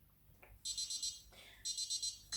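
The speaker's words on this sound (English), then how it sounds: "there's the buzzer going, so let's have a look" Electronic buzzer of a conventional oven timer sounding while scones bake, two bursts of rapid, shrill beeps separated by a pause, loud and close with faint kitchen noise between.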